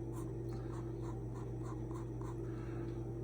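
A blue pencil writes on paper while a dental partial denture design is surveyed and marked, giving soft, rhythmic scratching strokes under a steady low hum.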